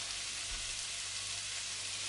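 Corned beef frying in a pan gives a steady, hissing sizzle, quiet and close, continuous with no voices over it.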